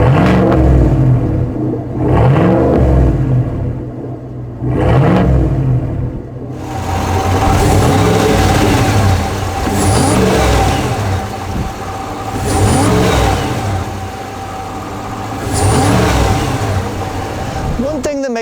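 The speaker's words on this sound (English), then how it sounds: "they sound really good when combined with a Borla exhaust out back" Supercharged 6.2-litre PaxPower Jackal truck, a converted AT4X Bison rated at 650 hp, with a Borla exhaust, revving loudly up and down several times in close, deep sweeps over a steady rumbling idle.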